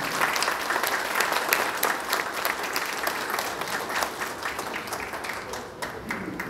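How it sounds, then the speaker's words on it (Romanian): Steady, dense applause from a large audience at a golden wedding anniversary ceremony honoring couples married 50 years, sustained for several seconds with a faint voice or two beneath the clapping. "Felicitări, haideți să-l aplaudăm."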